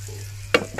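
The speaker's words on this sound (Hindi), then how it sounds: "गोश्त मसाला जो है ये भून लिया गया है, अब हम डालेंगे गोश्त, ये रहा गोश्त" Raw mutton dropped into sizzling, fried masala in a kadhai on a village stove, a sudden close burst of frying crackle over a low steady hum.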